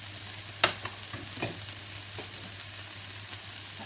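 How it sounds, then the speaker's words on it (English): Vegetables hit a hot frying pan for a couscous quiche filling, giving a steady close sizzle with a sharp crackle at the start and light stirring clicks throughout. "I've got my frying pan heating again. I'm going to add my veg."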